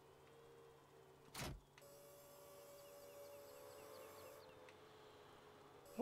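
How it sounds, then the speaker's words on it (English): A small electric tractor with a mower in Farming Simulator 19 gives a faint, steady whirring electric drive hum with a thin high whine, after a brief whoosh at the start. "And we'll grab our little electric tractor and the mower."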